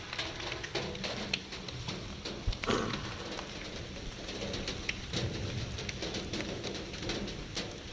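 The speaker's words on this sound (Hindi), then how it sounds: "कल इतनी भीषण गर्मी और अभी प्रातः काल से भीषण वर्षा आरंभ है" Heavy monsoon rain pouring in the Nagpur area, a dense steady hiss of drops on surfaces with birds calling faintly through it and an occasional distant rumble.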